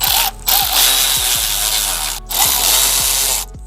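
A power drill or driver tightens bolts on a catch can being installed on an Infiniti Q50 with a VQ37VHR engine, running in close, loud bursts with repeated quick spin-downs and brief pauses.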